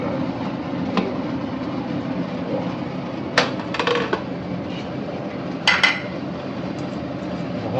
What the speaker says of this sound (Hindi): अब हम कुकर को खोलते हैं